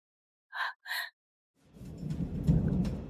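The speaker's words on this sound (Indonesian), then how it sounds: "Ada hujan badai di luar." Thunder rumbles low and heavy outdoors in a storm, with rain hissing steadily beneath it, after two short high beeps at the start.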